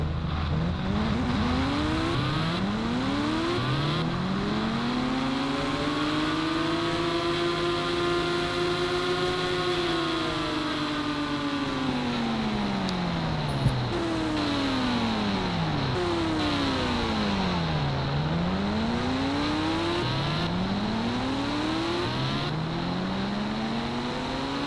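Motorcycle engines rev and whine in the Indian Bike Driving 3D game, pitch sweeping up and down in long smooth arcs, steady and continuous with no talk.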